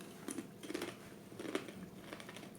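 Someone chews crunchy Indonesian onion crackers (kue bawang), giving a few soft, close crunchy bites in irregular bursts, faint over a low background hiss.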